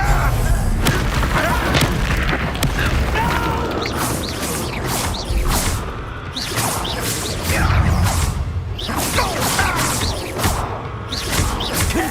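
Fiery Confringo spell blasts in the Hogwarts Legacy video game, a dense run of booming explosions, whooshes and crashing impacts layered over continuous combat noise, loud and close throughout.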